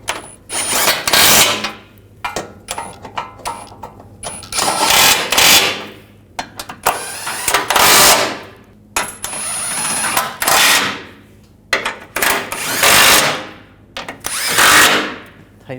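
Ratchet wrench and power tool tightening the thermostat housing bolts on a 2008-2012 Jeep Liberty 3.7L V6, heard as repeated close, loud bursts of clicking and whirring with short pauses between them.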